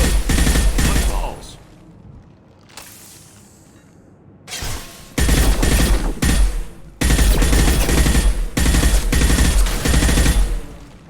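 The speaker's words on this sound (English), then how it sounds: "este rifle revienta, a pesar de su precisión de mierda" Rifle fire in the video game Mass Effect 2, loud sustained automatic bursts broken by a brief lull, the shots dense and close with heavy low-end impact.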